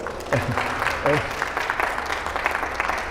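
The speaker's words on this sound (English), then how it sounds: "yes, applaud." Audience applause at a panel on voting machine reports, a moderate spread of clapping running steadily throughout, with voices mixed in under it.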